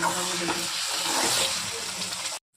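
Masala with ginger, garlic and onion paste fries in a pan for egg curry, a steady close sizzle with some stirring that cuts off abruptly at the end.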